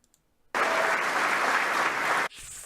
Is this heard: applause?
yes